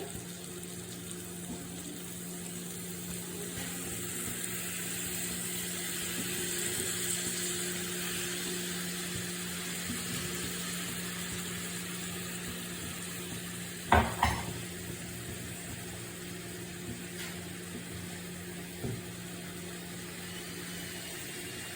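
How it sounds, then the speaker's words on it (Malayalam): Fish frying in a pan with coconut milk poured in, a soft steady sizzle that swells gently, then a brief clatter of a utensil against the pan near the end, close and quiet. "ഇനി നമുക്ക് കുറച്ച് തേങ്ങാപ്പാലൊന്ന് ഒഴിച്ചു കൊടുക്കാവേ."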